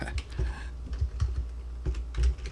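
Soft typing on a computer keyboard, with irregular light key taps over a steady low hum, fairly quiet and close.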